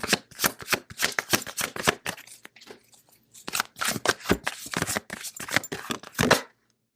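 Tarot cards are shuffled close by in quick bursts of crisp riffling and slapping. A short pause splits the two runs, and there is no talk over them.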